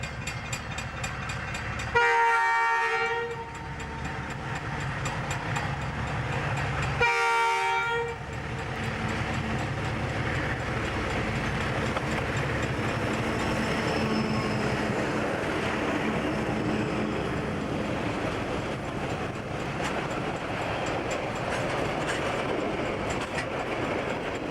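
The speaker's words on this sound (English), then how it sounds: "In February 1998, the paper train starts its run south to the newsprint mill at Boyer." A paper train hauled by two former Queensland Rail 1300 class diesel locomotives runs south toward a newsprint mill, sounding two loud horn blasts over a steady rumbling engine drone and rolling wagons.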